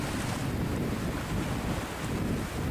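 A fishing boat heading out past the harbor mouth off Phu Yen, pitching through rough sea, with steady loud wind buffeting the microphone and surging water continuous throughout, no voices.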